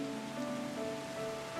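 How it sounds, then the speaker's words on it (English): Steady rain falls in the video game Final Fantasy XIV Endwalker, a continuous soft patter on surfaces mixed with faint tonal game music, with no talking. "Oh, look at the rain, baby."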